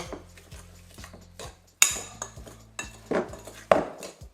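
Beef being mixed in a bowl for a Jamaican-style curry beef, heard as several sharp metallic clinks and scrapes of a utensil against the bowl, close and clear, with no talking.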